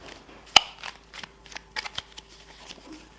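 Tarot cards are shuffled at close range, a sharp riffle snap followed by a quick run of soft, crisp card slaps and slides at a quiet level.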